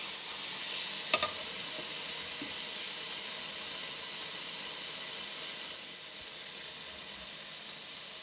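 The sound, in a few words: steak sizzling in pan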